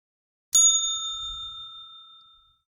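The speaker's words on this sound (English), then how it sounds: "There's a bell on the counter between you and the mailboxes." Counter bell in a video game set in a Brooklyn, New York post office, struck once with a bright, sustained metallic ding that rings out and fades over about two seconds.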